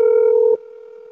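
A telephone dial tone hums loud and steady while a call is placed, then drops abruptly to a quieter continuous tone about halfway through.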